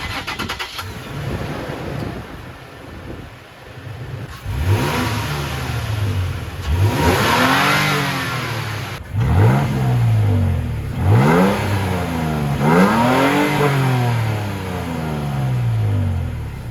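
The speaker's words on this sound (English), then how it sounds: "And as you can tell, sounds like a stock Tacoma." A stock Toyota Tacoma V6 starts, then revs through its factory exhaust in four loud, close throttle blips, each rising sharply and falling back to a steady idle between them.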